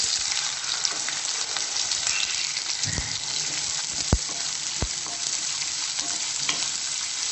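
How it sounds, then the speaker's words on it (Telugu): Onions fry in a pan for a potato and green peas curry, a continuous close sizzle with a few sharp clacks of a spoon stirring against the pan. "లైట్ బ్రౌన్ కలర్ వచ్చే వరకు ఫ్రై చేయాలండి"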